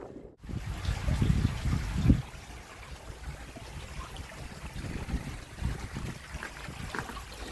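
A small stream of clear water trickles beside an old disused railway line in the Somerset countryside: a steady, soft watery hiss with a few low bumps near the start and no voices.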